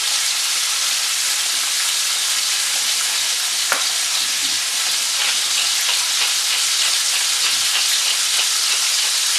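Chicken thighs frying skin side down in a seasoned pan, giving a loud, steady, close sizzle with crackling spatters throughout and no talking.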